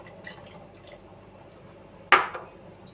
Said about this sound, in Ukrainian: Минуло 20 хвилин, вливаю оцет